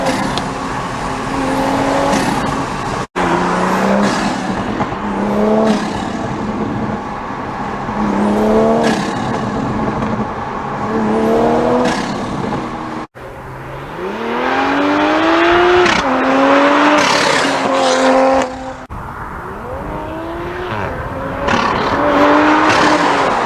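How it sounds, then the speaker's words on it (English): A 2020+ Toyota Supra A90 with an ArmaSpeed intake accelerates hard on a highway, its turbo engine surging loudly through repeated climbs, each broken by a sharp gear-change cut where the flutter of the turbo is heard. "Hear that turbo flutter?"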